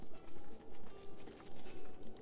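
Horse hooves clip-clop in a steady walking rhythm in Zelda: Breath of the Wild, soft repeated thuds at close range with no talk.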